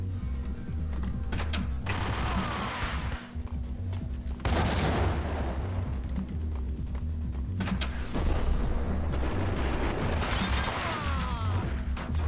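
Gunfire in the Max Payne video game, with rapid volleys of shots, crashes and booms overlapping densely, loud and close, with bursts recurring throughout and no talking.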